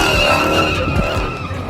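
A car sliding with its tires skidding, a loud, continuous screeching squeal close by mixed with engine roar, lasting the whole short moment.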